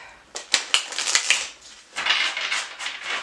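A Fyodor Pavlov tarot deck, its cards slightly bent, being shuffled up close in quick riffling bursts of crisp flicking and clacking, two clusters separated by a short pause.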